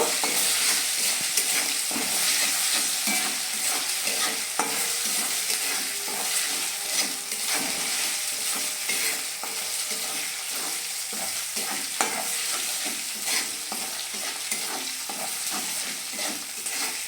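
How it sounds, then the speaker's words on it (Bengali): Spice paste with four chopped green chillies being sautéed in a pan for a home-style veg dal, a steady close sizzle and frying hiss with stirring scrapes running throughout. "দিয়ে এটা ভালোভাবে আর একটু কষিয়ে নেব"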